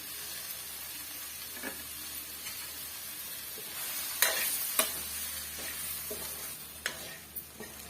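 About five teaspoons of coriander powder sizzle softly in a pan over medium heat for fish curry, under a steady frying hiss. A spoon stirs it with occasional sharp scrapes and taps, and no one speaks.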